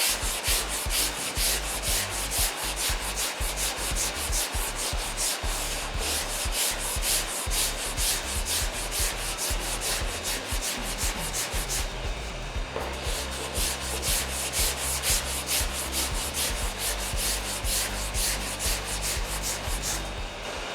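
Body filler on an XC Falcon panel van being sanded with a 120 grit board, a continuous rhythmic rasping back and forth, close and steady throughout with a brief change in stroke midway.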